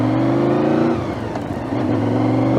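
A 27-year-old Honda VFR750 motorcycle with 62,000 miles revs under throttle, its engine note rising in pitch, dipping briefly, then climbing again, loud and close with no talk.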